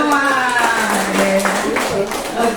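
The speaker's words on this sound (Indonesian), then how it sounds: "Tepuk tangan untuk kita semua." A group of people claps hands together, loud and close, with voices talking over the clapping throughout.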